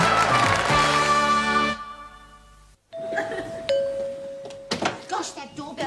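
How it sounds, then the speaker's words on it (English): A two-tone doorbell chime rings out over music and background speech, followed by a sharp knock-like thud and more chimes. "that doorbell gets impatient on Tuesdays"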